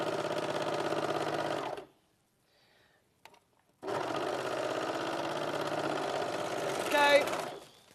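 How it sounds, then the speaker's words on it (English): An overlocker stitching a seam on a jersey jumper whirs steadily and loudly up close, stops for about two seconds, then runs again at full speed to the end. "So if you do this on the overlocker, you could make this jumper up in an hour."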